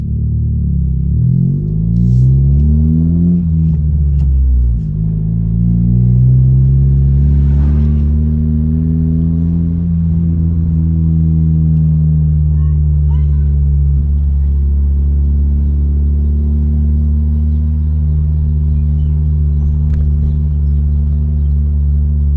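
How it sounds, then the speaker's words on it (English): A 2018 Honda Civic Sport with a straight-pipe exhaust and turbo revs loudly up close, its deep engine note rising and falling in several sweeps before settling into a steady rumble with faint turbo whoosh. "you'll just hear the turbo like whooshing, like it's almost no exhaust sound at that point"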